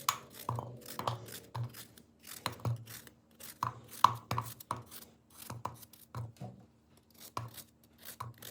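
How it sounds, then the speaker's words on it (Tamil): White pumpkin is chopped into small pieces with a knife on a board, producing quiet, crisp, irregular cutting knocks in quick clusters with short pauses between them, close and faint. "இப்படி சின்ன சின்ன பீசஸாக கட் பண்ணி எடுத்துக்கிறேன்."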